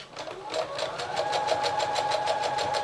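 A sewing machine stitches around the edge of a cupcake hand warmer, running with a fast even mechanical chatter that starts softly and settles into a steady whir, with no speech.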